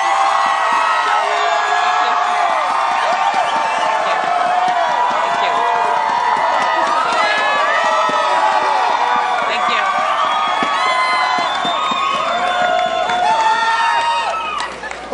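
A rally crowd cheers loudly for Meg Whitman, with whoops, shouts and clapping blending into a dense, sustained roar that stays at full volume before easing slightly at the end.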